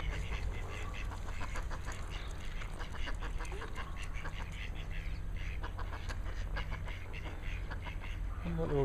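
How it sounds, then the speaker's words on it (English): A group of ducks quacking at a port nature reserve, many overlapping quacks in a dense, continuous chatter at mid distance over a steady low outdoor rumble, with a voice speaking faintly under the birds. "Bit of duck politics going on."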